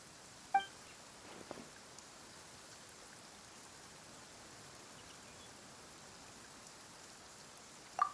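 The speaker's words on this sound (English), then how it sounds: "Why is it raining all of a sudden?" Faint, steady rain hiss in the video game Genshin Impact, with a few soft isolated drips and taps, no voices.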